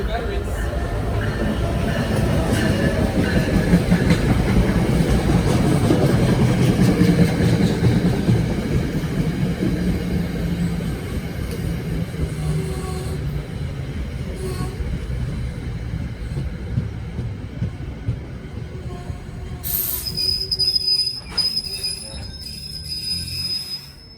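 Train 3154 departs a New Jersey station trackside, a loud, close rumble of rolling railcars that slowly fades, with a high wheel squeal rising near the end.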